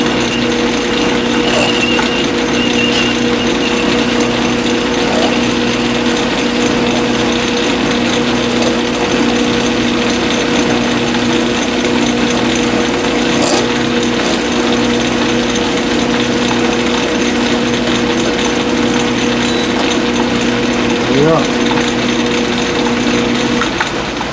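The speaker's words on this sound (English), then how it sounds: "Let's go ahead and part the little booger off." A metal lathe parts off a small knurled knob with a steady, close mechanical hum and a constant tonal drone, with faint scraping from the cut underneath and no voices.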